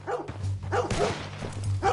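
A dog in the Red Dead Redemption 2 video game barks repeatedly, several loud close barks in an uneven rhythm over a low engine-like hum.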